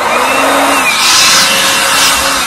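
Spring trimmer leaf blower running close by, a loud, steady high-pitched motor whine with a rushing air hiss that holds even throughout.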